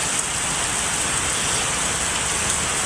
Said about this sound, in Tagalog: Grabe, lakas ng ulan, no.